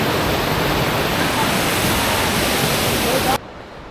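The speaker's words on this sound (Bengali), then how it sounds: "আর এখানে একদম জল নামছে পিছন দিয়ে" Water pours down steadily behind a bamboo trail in rainy Meghalaya hills, a loud, close, unbroken rushing hiss that cuts off abruptly near the end.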